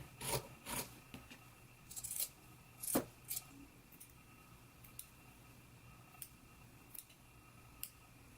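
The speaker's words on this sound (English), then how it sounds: "Now we can go ahead and trim it down and then clip the curves" Sharp scissors snipping through a sewn shirt seam and clipping its curves, a series of crisp cuts that start in quick clusters and thin into isolated, fainter snips spaced about a second apart, close by with no talking.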